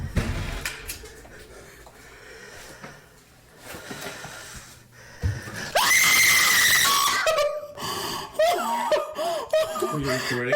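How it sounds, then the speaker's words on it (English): A person screams loudly, with a sustained high shriek rising out of laughter and talk, followed by wavering shrieks and giggling between voices. "Because I need to scream too. I needed to scream."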